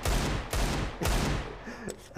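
Gunfire in CS:GO: three loud bursts of rapid shots spaced about half a second apart, then quieter scattered shots, with only faint commentary in the background.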